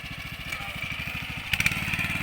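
Walk-behind 4-row rice transplanter engine revving in a flooded paddy, a steady fast-chugging small motor with a brief sharper burst of revs near the end.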